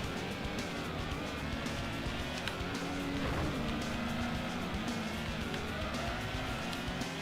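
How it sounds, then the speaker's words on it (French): Race car engine in Gran Turismo, a continuous dense roar with shifting pitch as the car spins out, loud and close with no talking over it. "elle part carrément en tête à queue"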